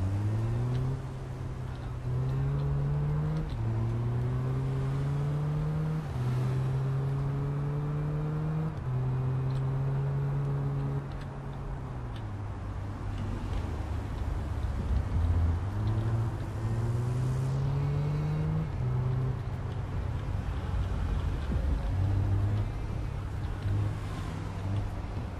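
A car engine driving in the Big Ambitions game, revving up repeatedly through gear shifts with a steady, continuous drone that rises and drops in pitch, alone with no talk.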